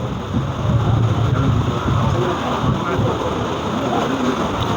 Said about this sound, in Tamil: மழை வருது, நனையாதீங்க